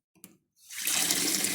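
Water runs steadily from a tap after a brief knock, a continuous close rushing stream that starts abruptly and fills the rest of the moment.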